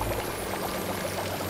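Water poured to douse a fire in the LEGO Harry Potter video game, a steady splashing pour that fills the short moment without any talk.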